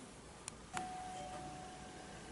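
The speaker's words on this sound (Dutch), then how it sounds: "Oh, de bel." A doorbell rings indoors, one faint ding followed by a single clear chime that rings out, quiet against low background hiss.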